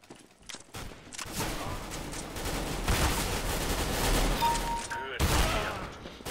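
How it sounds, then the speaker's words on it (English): Counter-Strike: Global Offensive gunfire, shots fired through a floor, heard as a steady stream of muffled overlapping shots and impacts under a player's speech. "I shot through the floor."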